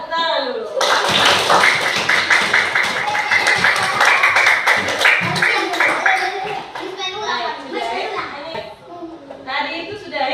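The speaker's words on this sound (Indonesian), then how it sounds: "Tepuk tangan dulu." A classroom bursts into applause for the winning groups, children clapping loudly and quickly for several seconds while kids chatter throughout, with the clapping tapering into scattered taps and voices near the end.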